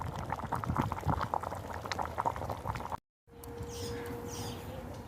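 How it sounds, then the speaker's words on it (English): Pork hobo stew simmering in a budget bush pot outdoors, with steady close bubbling, then a brief dropout, followed by a quieter, smoother boil with a faint hum. "while this is simmering away"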